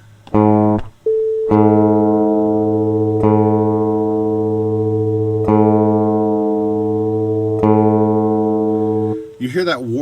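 Guitar strings tuned slightly flat against each other ring out in sustained notes with a slow wavering beat, the strings plucked again several times over about nine seconds, close and loud, before a brief burst of noise at the end.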